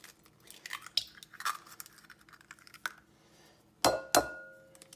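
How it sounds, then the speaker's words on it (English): Two eggs are cracked into a bowl, giving two sharp, close cracks in quick succession near the end. Before them is a quiet stretch with faint clicks and handling noises. "first thing I'm going to do is crack the 2 eggs"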